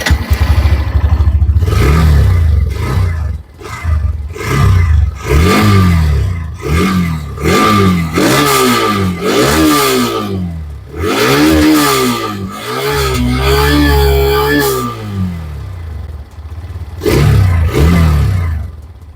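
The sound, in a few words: Hero Xtreme 125R motorcycle exhaust note revving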